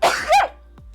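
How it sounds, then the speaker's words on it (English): A single sharp human sneeze, loud and close, with a quick inhale followed by an explosive burst, then a short trailing breath. "I'm going to sneeze."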